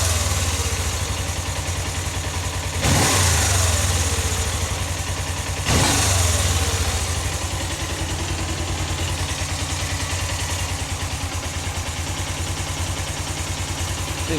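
A Suzuki GS500F motorcycle with freshly cleaned carburetors idles with a steady low throb, broken by two sharp throttle blips that rev the engine briefly before it settles back to idle, close and loud.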